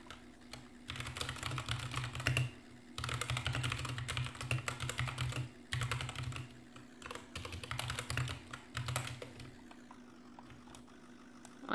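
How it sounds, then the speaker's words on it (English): Rapid bursts of typing on a computer keyboard during a Roblox police roleplay session, clicky keystrokes arriving in several dense runs with short pauses, over a low steady hum and no talking. "I was trying to type in something"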